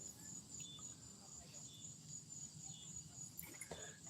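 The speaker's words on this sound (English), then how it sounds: "as you can hear, the cicadas are starting to sing out a little bit more" Cicadas sing at dusk in a steady, high-pitched drone that runs through the whole stretch, fairly faint and distant, over a low ambient rumble with a few brief louder sounds near the end.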